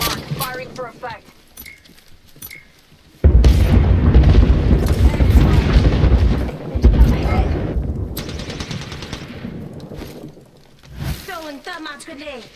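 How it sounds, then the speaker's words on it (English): An airstrike hits in Apex Legends, a sudden heavy barrage of booming explosions and rattling gunfire that roars for several seconds and then fades, with voices talking before and after. "Airstrike coming in."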